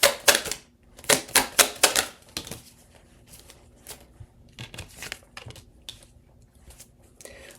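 Tarot cards riffled and snapped in a quick burst of sharp, close crackles, then slower scattered flicks and light papery rustles as cards are drawn and laid down, fairly quiet with no talking.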